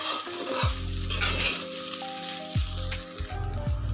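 Sabudana khichdi for a fasting meal being stirred in a pan, with repeated scraping strokes and a soft sizzle underneath, close and steady with no talking.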